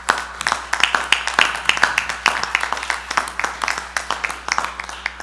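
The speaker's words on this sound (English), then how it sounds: "Let's just give them a round of applause." A city council meeting audience applauds a baseball team, scattered distinct hand claps with an irregular rhythm over a steady low hum, moderately close.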